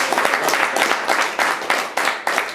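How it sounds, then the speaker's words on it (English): A quiz-night audience gives a round of applause, a dense, loud and continuous burst of many hands clapping, swelling in short waves before fading at the end. "A special round of applause for Mike Lee, who took a lot of time to write out all those questions."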